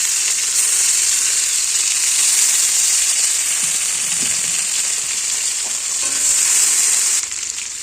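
Tomatoes hit hot oil already spiced with cumin seeds and fried green chillies, giving a loud, steady sizzle with a bright hiss that runs nearly unbroken, easing slightly near the end.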